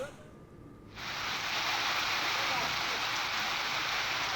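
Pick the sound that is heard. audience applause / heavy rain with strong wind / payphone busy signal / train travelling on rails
heavy rain with strong wind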